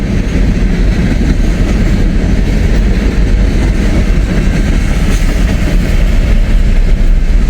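A freight train rolls loud and close over a railroad diamond crossing in a small Indiana town, a continuous heavy rumble with dense wheel clatter throughout and no voices.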